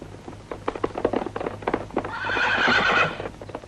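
Hooves clop in an uneven patter, then a horse lets out a loud, drawn-out neigh close by before the clopping resumes.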